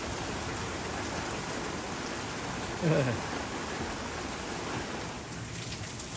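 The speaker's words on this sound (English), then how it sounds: "just sitting out here watching the rain" Steady rain falls outdoors on trees with autumn-colored leaves, a soft, even hiss filling the whole stretch close by, while a single brief spoken word briefly rises over it.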